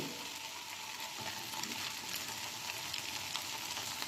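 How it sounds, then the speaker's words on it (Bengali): Okra (bhindi) fries steadily in a pan, a continuous close sizzle with dense crackling that holds level throughout, no voices. "আমাদের ভেন্ডিটা ফ্রাই হয়ে গেছে। আমরা আরও 2 মিনিট এটাকে ফ্রাই করব।"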